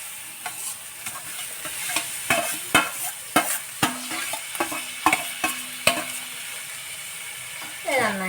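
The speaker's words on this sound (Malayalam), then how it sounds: "നമുക്ക് ഇനി കക്കറച്ചി ഇതിനകത്തേക്ക് ഇട്ട് കൊടുക്കാം" Clam meat being tossed into a pan and stirred for a Kerala clam roast, sharp spoon-on-pan scrapes and knocks in an irregular rhythm over a low sizzle, close and distinct, no talking.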